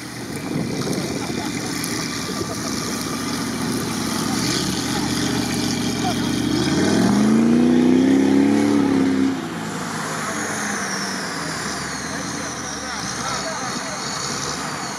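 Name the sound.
off-road vehicle engine being started while still hitched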